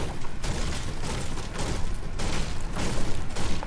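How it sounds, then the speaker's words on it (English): Sniper rifle fire in a Fortnite shootout, a dense run of sharp cracks and booms going on steadily throughout, loud and close with no pauses. "Whoever's shooting, please stop."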